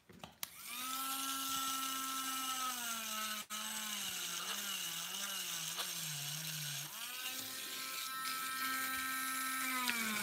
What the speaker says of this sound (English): I like this drill because, you know,